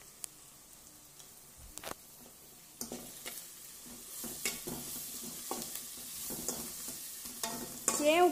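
Onions sauté in a pan for an egg gravy with green cashews, a soft steady sizzle broken by frequent scraping stirs of a spoon, growing busier and louder toward the end.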